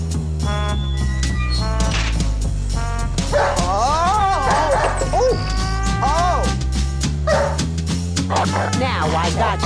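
A dog yelps, barks and whimpers in short bursts over a busy musical score, close and loud, with a voice also present in the scene.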